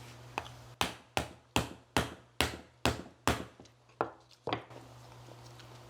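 Giant mud crab shells pounded with a hand pounder: a run of about eight sharp, evenly spaced close knocks over a steady low hum, with no talk.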